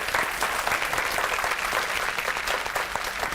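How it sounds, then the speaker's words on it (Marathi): Steady applause from a studio audience of a Marathi TV home game show fills the room, a dense, even patter of many hands at moderate distance with no talking. "चला, टाळ्या वाजवून शुभेच्छा."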